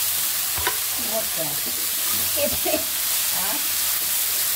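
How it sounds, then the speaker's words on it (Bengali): Lentil dumplings (bori) fry in a pan for a midday meal, giving a steady, low sizzle with faint stirring scrapes throughout, while a voice speaks briefly over it. "এই যে দুপুরে রান্নার জন্য বড়ি ভেজে নিচ্ছি"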